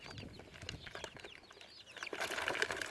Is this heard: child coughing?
no